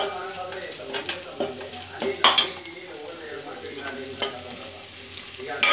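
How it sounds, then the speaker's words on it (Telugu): Onions frying in a pan for a green chilli chicken curry, crackling sizzle with scattered sharp clinks of a utensil stirring against the pan. "ఆనియన్స్ మంచిగా ఫ్రై అయిన తర్వాత"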